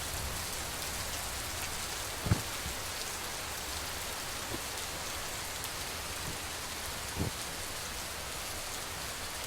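Heavy rain falls in Chikkamagaluru, Karnataka, a constant even hiss with a few louder drops and taps standing out, and no voices.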